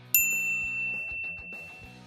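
A single bright bell-like ding from a notification sound effect rings out once and decays slowly over about two seconds, clear and alone with no talk.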